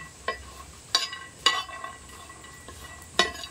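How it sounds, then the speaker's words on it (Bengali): Dried red chillies fry with garlic in oil under a quiet sizzle, while a spoon knocks and scrapes against the pan in a few sharp, spaced clicks. "শুকনো লঙ্কাটাও এর সঙ্গে আমি ভেজে নেব।"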